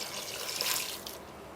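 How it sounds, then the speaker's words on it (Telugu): Water is added to a cooking pot holding mutton pulav spices and ginger-garlic paste, a steady hissing splash that swells briefly and then tapers off, close and moderately quiet. "ఇప్పుడు ఇవన్నీ కలిపి కొంచెం వాటర్ కూడా వేసేద్దాం."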